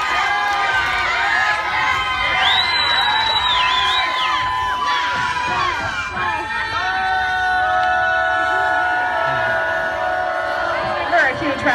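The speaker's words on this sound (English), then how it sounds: "round of applause" An indoor crowd at a tribal competition crowning cheers and shouts, with loud excited voices and whoops rising and overlapping across the stretch, and a bright whistle-like cry near the middle.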